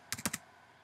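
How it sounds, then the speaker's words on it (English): Four quick, close key taps on a computer keyboard come in a brisk burst, then fade into quiet room tone. "I'm going to type in here"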